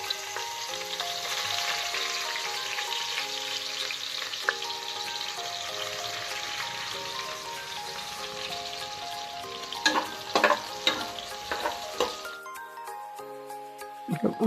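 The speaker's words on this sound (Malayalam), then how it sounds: "നമുക്ക് കുറച്ച് ഉള്ളി വറുത്തെടുക്കാം." Onions sizzle steadily in hot oil in a pan for chicken biryani, a continuous close frying hiss with occasional stirring clinks and scrapes toward the end.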